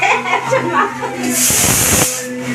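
Spices tempering in hot oil, a sudden loud hissing sizzle bursting up for about half a second amid nearby chatter and a background voice.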